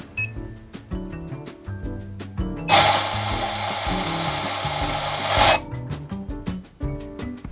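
A coffee grinder whirs loudly for roughly three seconds in the middle, a dense steady buzz set between clinks, taps and handling sounds as coffee is prepared.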